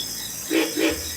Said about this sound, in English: There were lots of pig frogs calling from the ditches